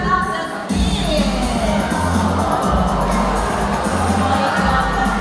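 A loud audience of adults and children cheers, whoops and shouts at a sea lion show, an enthusiastic roar that swells and stays strong throughout.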